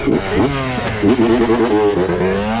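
A 2019 Yamaha YZ125 two-stroke dirt bike engine revs up and down in quick rising and falling sweeps, close and fairly loud, running a little rich.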